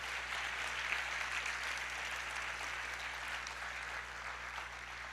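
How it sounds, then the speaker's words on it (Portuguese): A church congregation applauds during a service, a steady, even wash of many hands clapping together at moderate volume, continuing without pause and with no voices over it. "Vamos aplaudir ao Senhor, se expresse."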